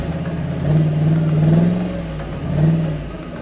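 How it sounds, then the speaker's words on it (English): A wet engine drive belt squeals on a running Ford Crown Victoria fitted with a cold air intake, giving two rising, whining squeals over a steady idle hum, close and fairly loud with no talking. "That noise, the belt is wet"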